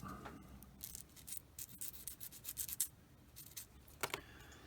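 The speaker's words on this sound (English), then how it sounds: "I'm going to hit it with the sanding stick just a little bit." A sanding stick rubs a small part of a 1/48 Eduard Bf 109E-3 plastic model kit in quick, irregular scratchy strokes, close and quiet, with brief pauses between bursts.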